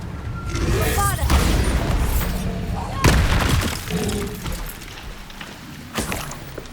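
The Bombarda explosion spell goes off in the Hogwarts Legacy video game, with several sharp, loud blasts, each trailing into rumble and debris, over busy game sounds.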